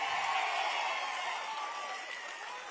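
Large crowd at an outdoor political public meeting in Proddatur clapping in protest, a steady wash of applause running throughout at moderate distance.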